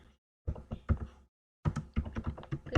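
Bursts of clicky keystrokes on a computer keyboard, close and fairly quiet, arriving in two short clusters split by a silent pause.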